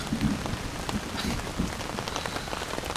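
Steady rain drums on a tent at a lakeside island campsite with no tarp overhead, a dense continuous patter with scattered louder drops close by and no voices.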